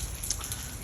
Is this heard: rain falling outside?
yes